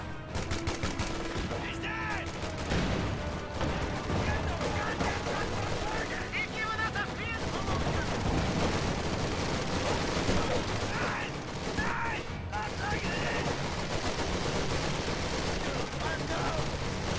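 Grease guns and other weapons fire in dense, continuous bursts during a World War II strategy game battle, loud sustained volleys layered with explosions and gunfire clatter throughout, with a voice talking over the din.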